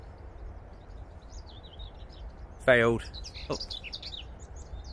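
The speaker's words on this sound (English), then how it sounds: "We've got the birds back again." Faint bird chirps and twitters outdoors by a canal, with a brief louder voice-like burst in the middle breaking the quiet background.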